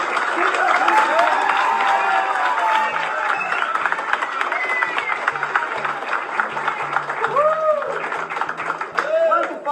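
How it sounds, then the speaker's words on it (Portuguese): A warm round of applause rises from a gathered audience at a meeting, a steady wash of clapping throughout with a voice speaking over it. "A salva de palmas calorosa de agradecimento"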